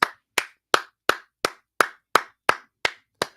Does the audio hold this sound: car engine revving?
no